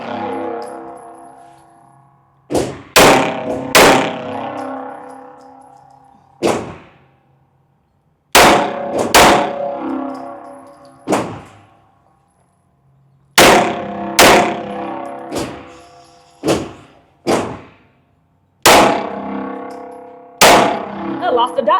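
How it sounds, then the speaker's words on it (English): A new Glock Gen 6 pistol is fired by a shooter on the move. About a dozen loud, sharp cracks ring out in uneven clusters, each with a short ringing tail and brief quiet gaps between. "All right, here we go. Just gonna take a couple shots"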